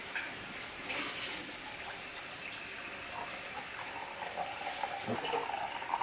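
Tap water runs steadily at a kitchen sink during dishwashing, a continuous close splashing hiss with faint clinks, lasting throughout without speech.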